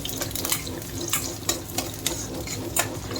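Onions and tempering seeds sizzle in hot oil with a close, steady crackle, punctuated by sharp pops and spitting bursts over a few seconds.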